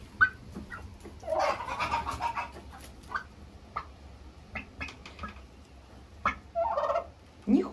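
A turkey hen gobbles and clucks near a feeder with grain mix and shell grit in a farm setting, giving short irregular bursts of rattling calls and pecking sounds, fairly close and loud, with no talking.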